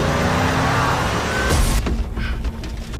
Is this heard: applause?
no